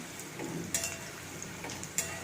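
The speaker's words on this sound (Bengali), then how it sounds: "এই ছাকা তেলে একটু উচ্ছে ভাজা করছি" Bitter gourd deep-frying in oil: a gentle frying crackle with a few sharp clinks of a utensil against the pan, quiet and without voices.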